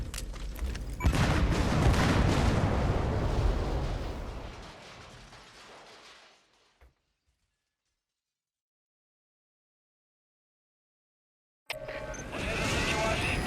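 Separator tank explodes in Metal Gear Solid V, a loud broadband roaring blast that rumbles on for several seconds and fades to silence before other game sounds return.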